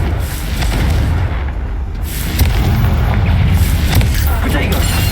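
Confringo fire spell blasts in Hogwarts Legacy, a dense rumbling booming explosion sound continuing through the whole stretch with low heavy energy, with game combat noise layered underneath.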